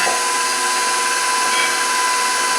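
A motorized pasta machine roller flattens homemade pasta dough with a loud, continuous mechanical whir throughout, close up with no speech.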